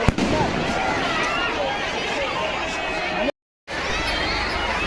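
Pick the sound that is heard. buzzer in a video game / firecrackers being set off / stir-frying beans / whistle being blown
firecrackers being set off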